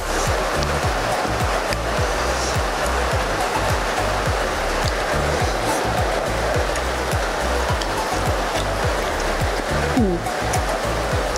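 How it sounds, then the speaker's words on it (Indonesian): Rain falls steadily outdoors, a dense, unbroken hiss of drops that stays loud and even from start to finish. "Hujannya udah mulai berhenti ya"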